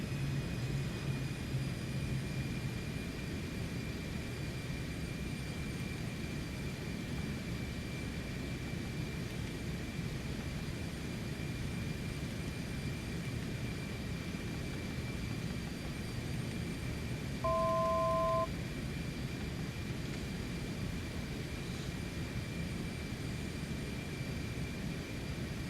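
Steady cockpit drone of a Cessna Citation X business jet climbing after takeoff, a constant loud engine and airflow roar with a faint high whine and a short two-tone chime partway through.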